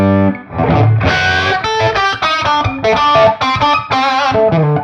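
A distorted Gibson Custom '59 Les Paul Standard strummed and picked with a pick, bright, driving attack, chords ringing loudly and steadily with short pauses between phrases.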